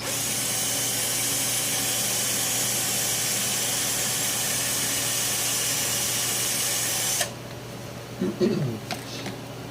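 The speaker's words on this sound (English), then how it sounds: "I'm just going to drill these real quick, index it" A drill bores holes in a part mounted on a lathe, giving a steady, close whirring grind for about seven seconds before it cuts off abruptly, followed by a few brief faint knocks.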